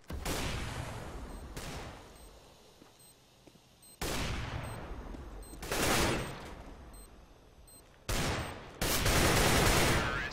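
Bursts of AK rifle fire in the shooter game CS:GO, several loud rapid volleys separated by brief pauses, close and sharp with no talking.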